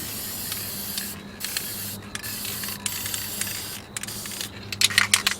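Rust protection spray hisses from a can in a steady close stream, with short breaks between bursts and a few sharper spurts near the end.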